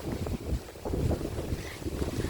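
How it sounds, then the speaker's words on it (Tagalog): Strong wind from Typhoon Kristine in Bohol buffets the microphone in low, rumbling gusts. It is loud and continuous throughout, with no voices. "Pero malakas pa rin ang hangin."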